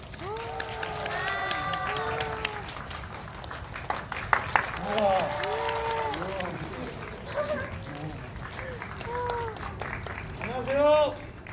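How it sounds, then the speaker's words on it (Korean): An audience in a cinema claps and cheers as a film's actors and director walk in for a stage greeting, with shouts and excited voices rising above steady applause, and a louder burst near the end. "자 그럼 큰 박수로 환영 부탁드리겠습니다"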